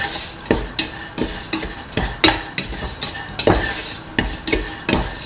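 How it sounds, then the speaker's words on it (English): Semolina and crushed dates sautéing in a pan: close, rhythmic spoon-scraping stirring strokes over a soft sizzle, repeating every half-second or so with no talk. "Keep on sauteing"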